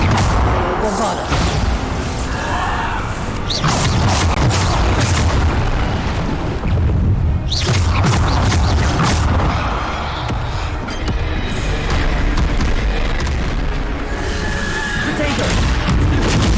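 Repeated Bombarda spell blasts in Hogwarts Legacy, loud booming explosions rolling one after another with dense crackling debris and a continuous roar, close and nearly unbroken throughout.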